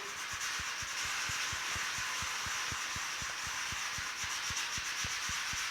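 Steady, close abrasive rubbing as a sanding block works in circles over the rounded hood of a 1950 Chevy truck, with rapid, even rhythmic strokes continuing throughout.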